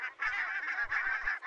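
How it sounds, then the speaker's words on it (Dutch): Barnacle geese honking in a dense grazing flock on farmland, a few overlapping nasal calls in close succession, clear and fairly near with no talking. "De brandganzen in dichte groepen vrijwel uitsluitend gras eten"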